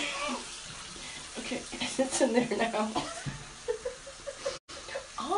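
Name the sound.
water running from a tap into a sink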